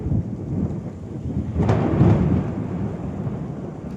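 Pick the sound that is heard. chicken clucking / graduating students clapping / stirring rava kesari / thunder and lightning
thunder and lightning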